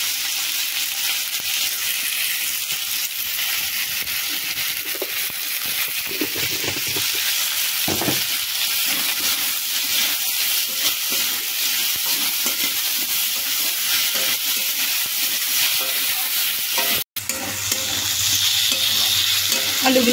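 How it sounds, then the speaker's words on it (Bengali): Potatoes and onions frying in a pan for a spicy dried-fish curry, a steady loud sizzle running throughout with stirring scrapes, a brief cut near the end, no talking. "আলু পেঁয়াজটাকে একদম সুন্দর করে একদম ভাজবো"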